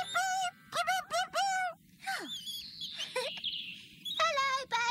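Cartoon baby bird chirping from inside an egg in a nest, a run of bright, high, repeated tweets, then sliding squeaky calls and more chirps, near and clear, with a voice briefly between them.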